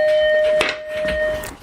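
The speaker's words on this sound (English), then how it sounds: "so the doorbell rang" An indoor doorbell rings as a steady electronic chime tone that holds for over a second, with faint rustling and room noise underneath.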